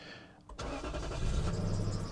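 A Lexus LS430 engine idling roughly: a soft click, then a steady low engine rumble with faint squeaking or whine on top, quiet and close, with no talk.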